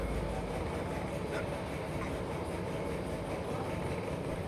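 A train rumbles past in a driving video game. It makes a steady, broad low roar that holds at a moderate level all the way through, with nothing else standing out.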